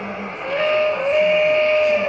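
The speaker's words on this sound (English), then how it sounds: "This is the Polar Express when it stops." A Polar Express toy train gives its stopping sound: a steady hiss with a thin whistling tone rising and holding over about two seconds, fairly loud and close, with no voices.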